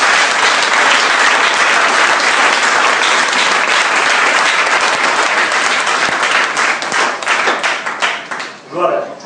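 A church congregation clapping and applauding loudly and continuously, a dense wash of hands close by that thins into scattered claps near the end, with voices mixed in.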